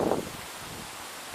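Gusty wind on a very windy day buffets an outdoor microphone, opening with a low rumbling blast that eases into a steady airy rush.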